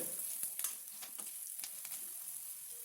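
Curry leaves, five or six sprigs, hit hot frying oil for a potato and gongura fry, giving a steady crackling sizzle with a few sharper pops throughout, close and fairly quiet, with no talking.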